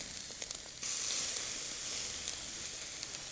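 Steak sizzling on a cheap Walmart grill outdoors in rain and darkness, a soft continuous frying hiss that swells after a few light crackles and holds steady, fairly faint and alone.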